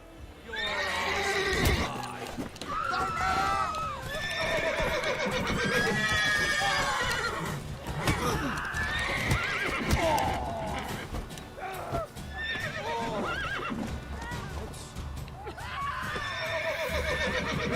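A horse in the video game The Witcher 3 neighs and whinnies repeatedly in loud, close bursts, with hoof clip-clops scattered between the calls.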